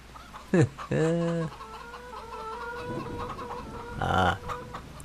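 Chickens in the farming video game Farming Simulator 25 cluck and squawk in short bursts, with a couple of loud calls near the start and another cluster later, over a quiet background with occasional talking.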